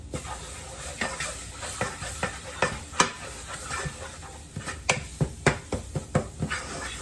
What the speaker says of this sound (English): we're going to stir in the tomato paste and cook it for about a minute.